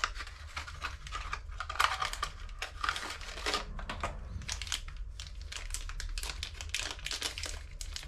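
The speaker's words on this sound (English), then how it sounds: "Sealed plastic bag." Continuous close-up crinkling and rustling of a sealed plastic bag holding a fuel injector part, busy and crackly throughout with no talking.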